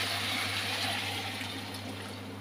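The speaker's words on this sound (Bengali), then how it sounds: "তো এবার জল দিয়ে দিচ্ছি" Water poured into a pot of pumpkin, potato, ridge gourd and drumstick vegetables, a steady broadband rushing pour that continues throughout at moderate level, with no talk.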